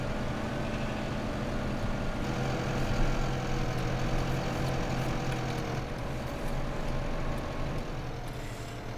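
A tractor engine runs in the Farming Simulator 2015 video game, a continuous low rumble holding steady and fairly loud with no talk over it.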